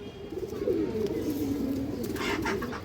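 A large high flyer pigeon coos in a continuous low, rolling murmur close by, with a faint rustle near the end and no talking.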